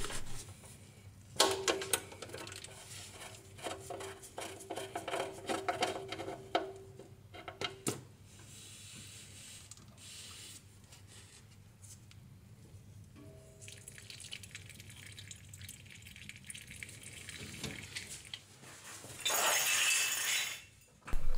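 Hot engine oil drains from a 1.3-litre Ford Fiesta Mk4 into a pan during a service: a thin, steady trickle and drip that runs on for about twenty seconds at moderate level, with no one speaking.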